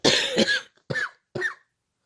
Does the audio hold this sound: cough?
yes